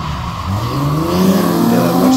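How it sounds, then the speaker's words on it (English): A Nissan Z31 drifts at Mission Raceway Park, its engine roaring loud and close with rising revs. A sustained tire squeal runs under it, and no one talks. "I have to come in pretty wide into this 90 degree here, so I gotta set myself up to be able to drift into there."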